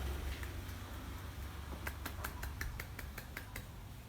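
A single person snaps fingers with one hand as a stand-in for a one-handed clap, giving a quick run of about eight sharp, close snaps after a quiet start.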